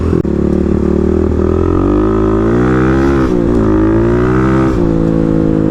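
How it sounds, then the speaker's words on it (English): A Kawasaki KLX351 dirt bike engine is loud and close, its pitch swelling and dipping as the throttle opens and eases while the bike slides through a corner. "getting onto the gas a little bit earlier and trying to slide, well, I guess drift the KLX through the corner"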